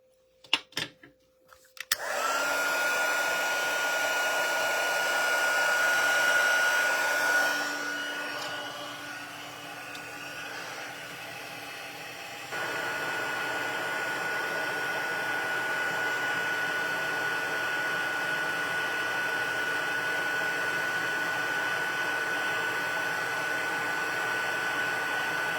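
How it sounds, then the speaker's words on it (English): A heat gun blows hot air over embossing powder, a steady whooshing hum that runs continuously, dips briefly in the middle, then settles into a slightly softer constant blow with no talking. "let's put on the heat gun for a couple of seconds."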